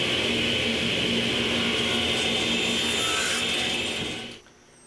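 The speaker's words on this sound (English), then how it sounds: "So each of these strips is going to be cut to length." A power saw fitted with a zero-clearance insert and a stop block cuts wooden strips to length for a display cabinet. It makes a steady, loud whine that runs for about four seconds and then cuts off.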